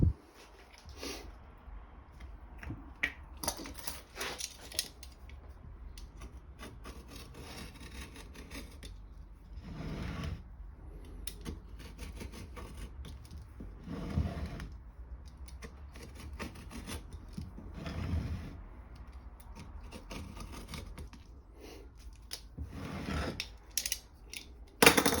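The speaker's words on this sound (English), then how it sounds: "So cut the patch into a circle." Scissors cutting an inflatable kayak repair patch into a circle, repeated close rasping snips and rubbing strokes in irregular bursts with quiet gaps between.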